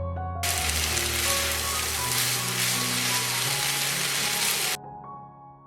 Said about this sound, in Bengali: এগুলোকে ভেজিটেবলের সাথে ভালো করে মিক্স করে কিছুক্ষণ ভেজে নিচ্ছি।